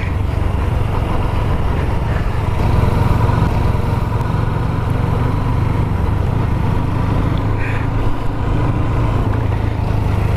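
A 4V motorcycle engine runs nearby, a steady low rumbling drone that holds evenly throughout without any talk.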